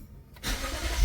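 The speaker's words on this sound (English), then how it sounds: "Cold start." Cold start of a Toyota or Lexus car engine in Citrus County, Florida: near-silence, then the starter catches and the engine bursts into a loud, steady rumble that swells toward the end.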